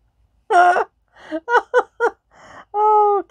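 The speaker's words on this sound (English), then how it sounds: "Gonna yawn again." A person yawns just after waking: a drawn-out breathy voiced onset, a few short catching breaths in the middle, then a long sustained moaning exhale, close and loud.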